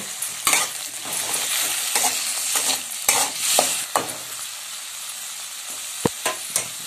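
Tomatoes go into potatoes frying in a pan for poha, with a steady sizzle and bright scrapes and clinks from a spoon stirring against the pan.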